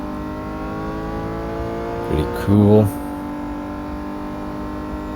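A steady BMW M2 Competition engine drone in Real Racing 3 with a brief louder rev burst midway, under a short spoken remark.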